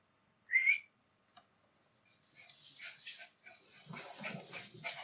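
Dogs at home give a short high whimper or whine near the start, then a low murmur of indoor activity and faint rustling builds over the rest.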